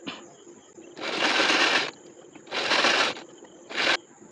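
A sewing machine top-stitches the waistband of a princess-cut blouse, running in three close, steady bursts separated by short pauses, with the last burst the briefest.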